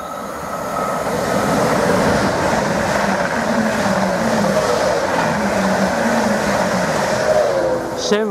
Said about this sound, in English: 745003 has just passed through platform 2 en route to London Liverpool Street.